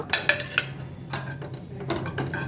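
Cooked dal with greens and tomato is stirred in a metal pot, giving sharp clinks and scrapes of a spoon against the rim, uneven and close.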